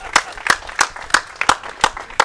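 Slow, widely spaced handclaps, about seven sharp claps at an even rhythm, fairly close, from a small group at an anniversary celebration, with no talk over them.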